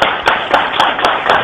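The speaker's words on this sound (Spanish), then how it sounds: "Aplausos." Audience applause comes as a short burst of rhythmic, loud, close clapping, about six even beats in a second and a half.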